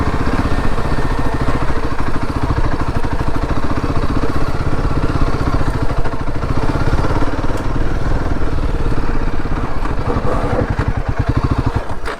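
A Royal Enfield Himalayan 450 motorcycle engine runs steadily up close on a slippery dirt trail, a throbbing mid-pitched rumble with some rattling as it rides along.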